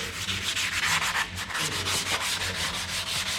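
Steady rhythmic scraping of 320-grit sandpaper worked by hand along the edges of a VW Amarok V6 truck part, close and continuous with no talk.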